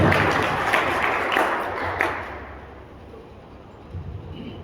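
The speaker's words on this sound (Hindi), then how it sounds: "जोरदार ताली से स्वागत कीजिए अशोक बत्रा" Applause from a crowd at a Hindi poetry gathering welcoming a poet, a broad wash of claps that fades out after about two seconds, leaving quiet room noise.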